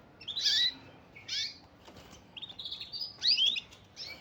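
A Persian (Shirazi) canary sings in bright, high trills and warbling phrases, several bursts separated by short pauses, fairly close and clear.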